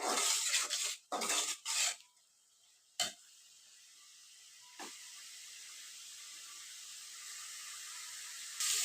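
Spice paste sizzles as it fries in a pan before chicken is added to a cabbage and chicken-bone vegetable dish: a few loud sizzling bursts at the start, then a low, steady hiss with one or two brief clinks.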